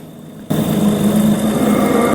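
A motorbike starting up and pulling away in a night ride toward a village through a jungle stretch, a sudden loud engine roar after a quiet opening that holds a steady, buzzing drone to the end.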